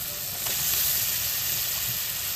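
Fresh meat goes into a pan of well-fried spice paste and sizzles, a steady close hiss that swells slightly after half a second and holds through the short clip.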